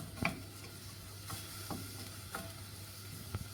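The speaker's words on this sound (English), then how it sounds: "You can hear that sizzling." Faint, soft sizzling of onions in a hot pot, with a few quiet stirring scrapes and clicks over a low steady hum.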